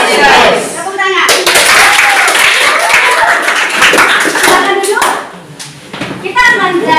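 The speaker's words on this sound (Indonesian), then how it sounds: "Tepuk tangan." A school class claps hands in quick, steady bursts, loud and close, with children's voices mixed in and a short pause before the clapping resumes.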